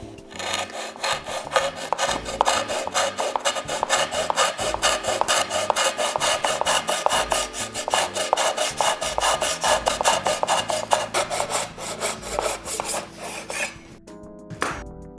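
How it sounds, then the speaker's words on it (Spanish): A Japanese pull saw cuts through wooden dowels holding a workpiece, with steady rapid rasping strokes in an even rhythm, close and clear, continuing for about fourteen seconds before stopping. "Esta pieza está sujeta por medio de dos espigas que podemos ir cortando gracias a nuestro serrucho japonés"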